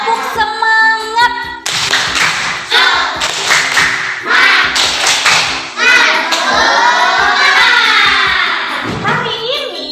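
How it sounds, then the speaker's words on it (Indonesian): Children in a classroom do a rhythmic spirit clap, sharp patterned claps and thumps in quick bursts while young voices chant and shout along. "Tepuk semangat."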